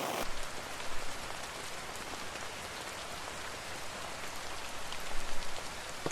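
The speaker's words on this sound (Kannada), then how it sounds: "ತುಂಬ ಅಂದರೆ ತುಂಬಾ ಮಳೆ ಬರ್ತಾ ಇತ್ತು." Heavy rain pours steadily on an outing toward the Maidadi viewpoint near Kudremukh, a dense, constant hiss of drops that stays loud and unbroken throughout with no voices.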